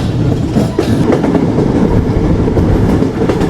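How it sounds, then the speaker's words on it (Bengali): The Betna Express runs through rural Bengal with a loud, steady rumble and rhythmic clickety-clack of wheels over rail joints, heard from close by. "গ্রাম বাংলার মধ্য দিয়ে ছুটে চলছে বেতনা এক্সপ্রেস।"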